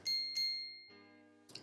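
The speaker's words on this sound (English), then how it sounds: "I like my bell. I gotta give you the bell." A hand bell is struck twice in quick succession, each ring a bright metallic ding that hangs and decays, followed by a softer third tone and another strike near the end, alone without talk.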